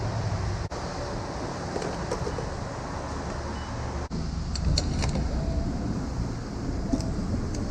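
A Lexus car on the road, heard from inside as a steady loud rumble of engine, tyres and wind, with a couple of brief dips and faint high chirps over the constant drone.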